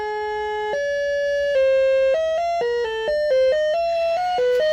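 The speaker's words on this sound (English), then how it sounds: "This is a very short glide to it." A single synthesizer oscillator plays a short melodic line of pure, steady tones, each note sliding quickly into the next with a brief pitch glide, clean and close with no talking.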